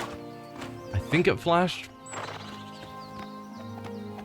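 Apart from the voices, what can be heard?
horse hooves in video game Oblivion Remastered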